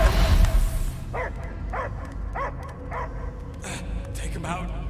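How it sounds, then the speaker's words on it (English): Cosmo the space dog from the Guardians of the Galaxy video game barks in a series of about seven evenly spaced, yelping barks that follow a brief loud burst, with game ambience humming underneath. "I hear only barking"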